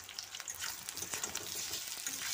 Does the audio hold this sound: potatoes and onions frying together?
yes